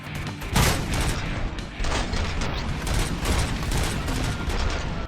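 Rapid, frantic gunfire rattles through RoboCop: Rogue City, dense bursts of shots and heavy impacts piling up continuously and loudly for several seconds, with no talk.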